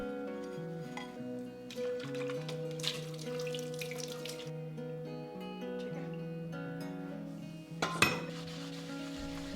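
Hot water is poured out of candle stands to melt leftover wax, then the stands are scrubbed in a sink, with splashing, trickling and clinking of metal and dishes throughout and a louder clatter near the end.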